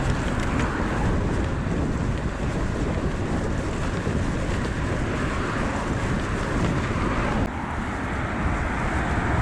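Headwind roars over the rider on a Lapierre E Crosshill 5.2 e-gravel bike, a dense, constant low buffeting rumble and rush that stays loud and close throughout, with no voices.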